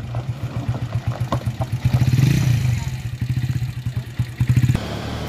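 A truck engine labours and revs hard on a rough, rocky uphill road, with a loud pulsing low rumble that surges and clatters before dropping off near the end, and a voice calls out over it.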